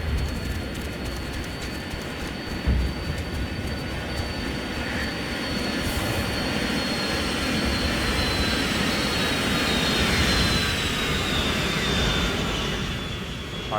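Aircraft jet turbines in Operation Flashpoint: Red River produce a steady, broad roar with a faint high whine, holding evenly at moderate loudness for around fourteen seconds, with no talk.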